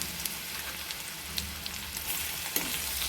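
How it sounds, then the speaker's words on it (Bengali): Chopped garlic fries in oil, giving a steady, close crackling sizzle with small pops and a few light spatters throughout. "রসুনগুলো যতক্ষণ না বাদামি রঙের হয়ে আসবে ততক্ষণ আমি ভাজতে থাকব"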